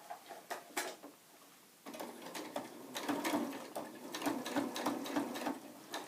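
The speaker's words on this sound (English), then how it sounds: "we're going to stitch now about 1/8 of an inch away from the edge" A sewing machine stitches a tote bag seam about an eighth of an inch from the edge, quiet rapid ticking and clatter in short runs, then a longer continuous stretch of steady stitching close by.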